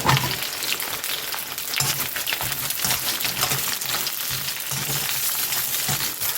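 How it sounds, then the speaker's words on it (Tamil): Sliced onion and coconut fry in oil in a pan for tomato kulambu, giving a steady, moderate sizzle with occasional stirring scrapes. "நல்லா வதங்கட்டும் வெங்காயம்"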